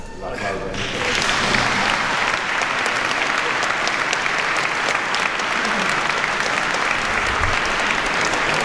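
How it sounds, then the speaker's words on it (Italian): An audience applauds steadily after a choir sings at a festive choral concert in Ortueri, Sardinia: a dense, sustained wash of many hands clapping that fills the room, with a voice speaking briefly at the very start. "Grazie per l'applauso."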